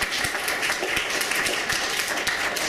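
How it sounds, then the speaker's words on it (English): Scattered applause from a conference audience at the close of a panel session, a steady patter of many hands clapping that runs for a few seconds at moderate volume with no speech over it. "since the applause came"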